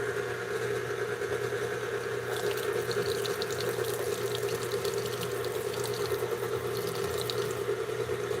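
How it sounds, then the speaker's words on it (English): Cold water runs from a kitchen tap in a steady, fairly quiet stream for several seconds, with no one speaking. "And I needed 25 grams of water,"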